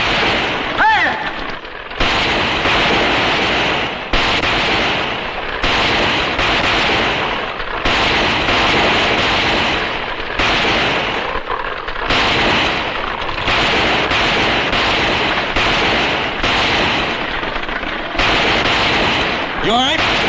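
Dense, loud gunfire crackles through a western shootout, with repeated shots in quick irregular bursts and a few brief gaps, all close and dominant over the scene.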